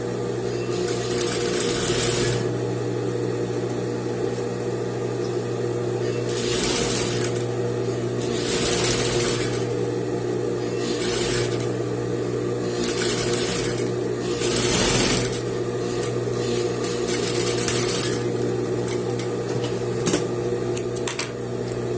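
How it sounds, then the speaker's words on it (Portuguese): A sewing machine stitches dress fabric for a princess-seam dress, running as a steady mechanical whir with a low hum and bursts of faster stitching that start and stop repeatedly, loud and close with no talking. "E vou costurando. Segurando o meu tecido com firmeza."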